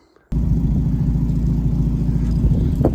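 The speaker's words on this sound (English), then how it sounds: "first let's just take the Miata out and start it up" Mazda Miata engine turning over and catching, then settling into a steady, loud, close low idle rumble that continues without talk.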